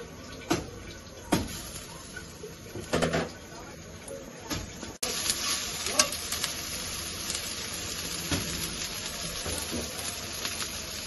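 Ginger garlic paste hits a pan of fried onions and boiled goat liver, with a steady broadband sizzle that rises after a sharp clatter midway, along with scattered stirring scrapes and some talk underneath.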